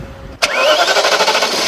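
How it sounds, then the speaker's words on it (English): A BMW 740 with a 4-litre 32-valve quad-cam V8 cranks briefly and fires with a sharp catch, then settles into a steady, close, fairly loud idle with a slight rhythmic pulse. "Under the hood is a 4-litre V8 engine."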